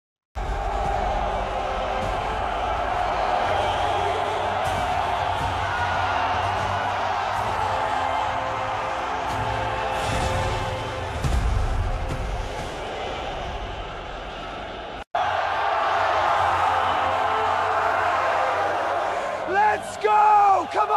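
A stadium crowd roars through a simulated football match day in eFootball, a dense continuous wash of voices at steady loudness, with a brief cut near the end and a voice cheering over the last seconds.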